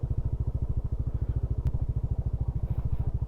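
A motorcycle engine thumps in a fast, steady low pulse close by while riding along a narrow road, loud and continuous with no talking over it.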